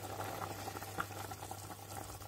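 Finnish dumpling soup simmers in a pot on the stove, giving a soft, steady bubbling and faint gurgles under a low hum, quiet and continuous with no talk.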